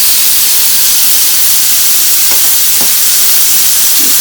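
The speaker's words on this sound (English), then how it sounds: "Hear that nice sizzle" Loud, steady sizzling hiss of a ribeye steak searing in a hot blue carbon steel pan, continuous and close, with a few faint crackles.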